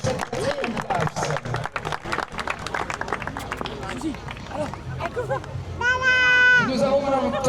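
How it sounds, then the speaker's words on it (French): Crowd applause at an equestrian eventing prize ceremony at Saumur, a busy spread of clapping mixed with crowd murmur and a voice over it, followed near the end by a brief tonal sound. "on peut encore lui faire quelques applaudissements"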